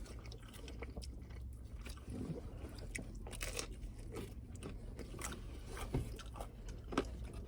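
Someone bites and chews extra-crunchy Chicago deep-dish pizza crust, its bottom made crisp and hard with beer and butter, giving close, continuous crunching and moist chewing with no talking.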